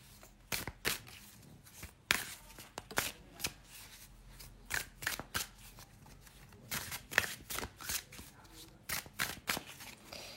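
Tarot cards are shuffled and laid out on a table, giving repeated crisp riffling bursts and flicks in an uneven rhythm, close and fairly quiet, with no talk over them.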